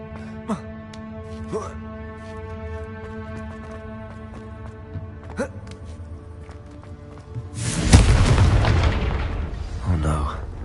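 Confringo fire spell in Hogwarts Legacy bursting into a loud, roaring explosion near the end, rumbling and crackling for a few seconds after a stretch of quiet game music and small clicks.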